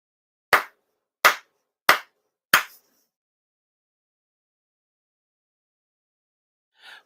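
Four ritual hand claps at a Konko shrine ceremony, sharp and evenly spaced, then silence with a faint sound at the end.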